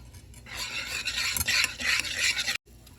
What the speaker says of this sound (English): Make sure you stir.